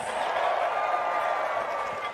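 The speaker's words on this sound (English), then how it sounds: "Oh, pretty big cheer for her." A stadium crowd at a women's 100m race cheers for Shelly-Ann Fraser-Pryce, producing a steady, dense roar that holds at an even level for about two seconds.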